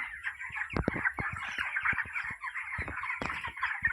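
A flock of 19-day-old broiler chickens on a poultry farm clucking and squawking together in a busy, continuous chorus, with occasional sharper calls close by.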